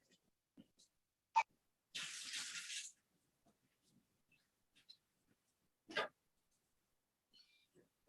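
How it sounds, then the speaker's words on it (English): A household tap runs briefly while hands are washed, a short, soft splash of water about one second long, surrounded by faint clicks and quiet room sounds. "Okay, once you're done, I'm going to wash my hand."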